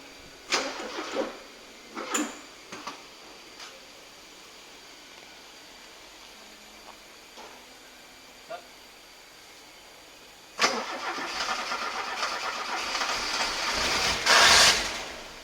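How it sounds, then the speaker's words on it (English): A Porsche 924 being worked on: a few short cranking bursts, quiet gaps, then the engine catches with a louder rise and settles into a steady idle near the end. "allow the car to idle a long time"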